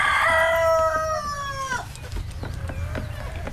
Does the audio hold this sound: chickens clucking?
yes